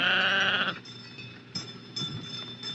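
A sheep from a Navajo flock gives a single loud, close bleat, followed by quieter outdoor background with a few faint knocks and rustles.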